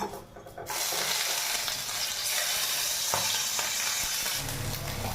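Asafoetida, chopped ginger and green chilli hit hot oil with a sudden loud sizzle that starts abruptly and holds steady, a broad hiss with a few faint clinks from stirring, no voices.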